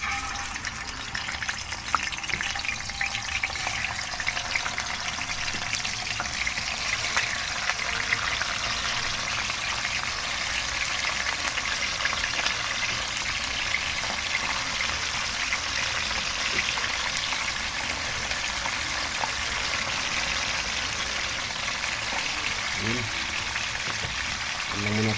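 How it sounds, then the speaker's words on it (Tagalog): Fish frying in hot oil, a loud, steady hiss and crackle that fills the whole stretch, close up, with faint talk in the background. "Kaya maglagay na tayo ng isda mga guys."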